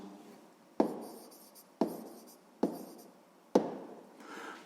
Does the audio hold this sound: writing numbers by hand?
yes